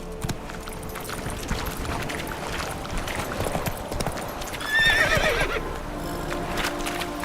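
A video-game horse gallops with a fast, steady clip-clop of hooves, close and prominent, and lets out a whinny partway through, with a few brief spoken words.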